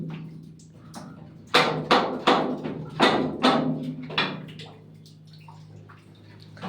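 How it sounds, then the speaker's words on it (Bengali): Water drips and splashes in a flooded spot where it stands about knee-deep, with a cluster of loud, close splashy bursts in the middle over a low steady background hum. "দেখুন জল টপ টপ করছে।"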